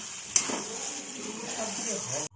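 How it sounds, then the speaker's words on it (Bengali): Fried pumpkin stirred into lentils in a pan, a steady close sizzle and frying hiss with soft scraping of the spoon through the mash, continuous until a sudden stop at the end. "খুব ভালো করে আমরা ডালের সাথে এই কুমড়ো ভেজে রাখা কুমড়োটা এটা আমরা মিশিয়ে নিচ্ছি"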